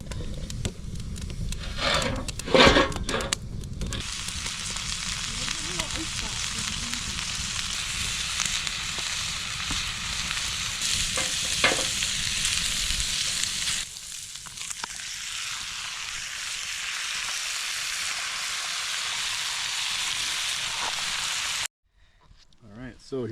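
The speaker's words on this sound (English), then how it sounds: "that's what's going on in the frying pan right now" Pre-made mac and cheese fries in a frying pan at a campsite, giving a steady close sizzle that runs under a person talking and then cuts off abruptly.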